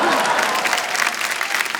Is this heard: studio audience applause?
yes